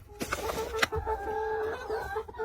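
A chicken clucks several times in short, choppy bursts over a faint steady hum, fairly close by.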